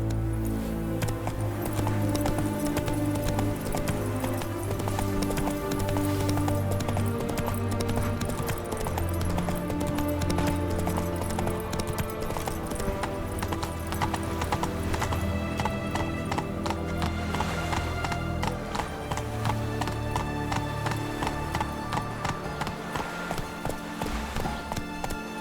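Roach, a horse in The Witcher 3: Hearts of Stone, gallops with steady, loud clip-clopping hoofbeats over a continuous musical score, with an occasional whinny and no talking.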